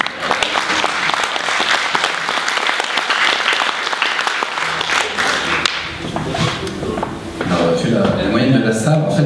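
Festival-goers applaud at an outdoor jazz festival, with dense, continuous clapping mixed with nearby talking voices, swelling louder again toward the end.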